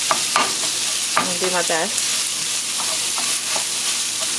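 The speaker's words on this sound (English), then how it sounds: "we're just going to cook the meat" Pork sizzles loudly in a pot as it is stirred, a steady frying hiss broken by scraping strokes, with brief speech over it.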